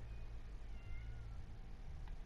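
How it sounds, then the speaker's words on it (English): A cat meowing in the South Park: The Fractured But Whole video game, faint against a steady low background hum, with no talking. "But there's a cat in there now"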